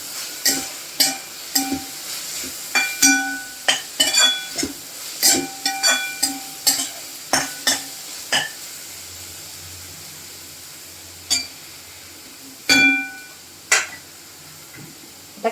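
Onions with red chili powder and turmeric are sautéed in a pan, with repeated sharp clinks and scrapes of a spoon stirring against the metal, spaced irregularly over a faint sizzle.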